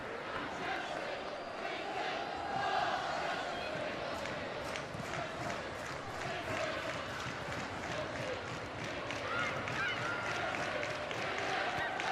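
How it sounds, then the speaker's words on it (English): Football crowd at Selhurst Park for a Crystal Palace versus Chelsea women's league match, a constant distant roar with scattered shouts and chanting and occasional claps, heard alone. "Encouraging crowd here at Selhurst Park"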